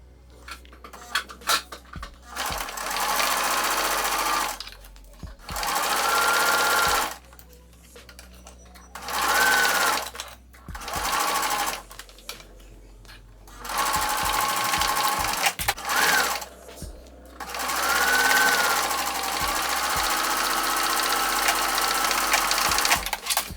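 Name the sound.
sewing machine top stitching a corset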